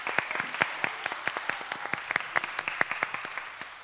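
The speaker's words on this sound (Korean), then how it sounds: "우리 서로에게 박수로 격려하겠습니다" Children and leaders at a Korean church summer worship service applaud each other, a steady patter of many hands clapping at moderate volume, individual sharp claps standing out against a soft room background.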